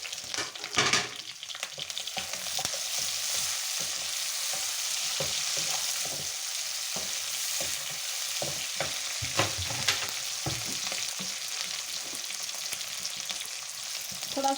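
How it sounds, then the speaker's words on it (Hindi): Vegetables fry over high heat with a loud, continuous sizzle, punctuated by repeated sharp clicks and scrapes from stirring in the pan, with no voices. "करेंगे अपनी सब्जियों को अच्छी तरह से फ्राई। तेज आंच पे हम रखेंगे इनको।"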